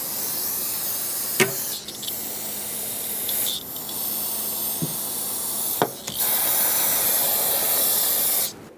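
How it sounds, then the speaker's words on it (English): Brake parts cleaner sprayed around a brake master cylinder on a 2011-2018 Ram 2500, in several long hissing aerosol bursts separated by short pauses, with a faint click between them, close and fairly loud. "I'm going to clean this all with a brake parts cleaner because I don't want any residue here"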